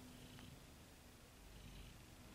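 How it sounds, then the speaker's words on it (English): A domestic cat purrs steadily and quite loudly close by, a low continuous rumbling drone with no voices over it. "You're purring."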